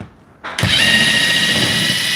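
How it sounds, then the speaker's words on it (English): After a brief quiet moment, a cordless drill starts up and drives a screw with a steady, loud, high-pitched motor whine that holds without pause to the end. "when you're driving a screw on a drill like this"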